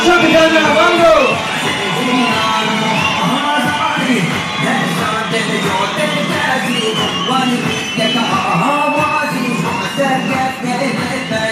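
A large crowd at a political party rally in Ankara roars with cheers, whoops and chanting voices, a loud, sustained wall of sound with shouts rising above the mass as a leader is welcomed onstage.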